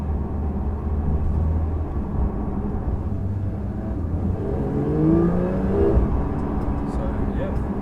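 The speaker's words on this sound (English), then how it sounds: "it's obviously the PDK gearbox, so it's changing up real quick in normal mode" A Porsche 992 GT3 with a 4-litre naturally aspirated engine and PDK gearbox accelerates from inside the car, its engine tone climbing and stepping through quick upshifts, heard under a talking voice.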